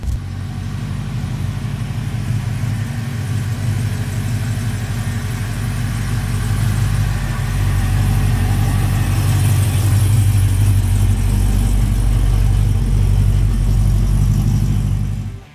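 A 750 hp supercharged LSA V8 in a 1970 Camaro restomod idles with a deep, steady rumble, loud and close throughout, swelling slightly in the latter half before cutting off abruptly.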